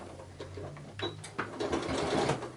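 A sewing machine runs a back stitch in short, close bursts of rapid mechanical whirring, quiet overall and with a few clicks in between.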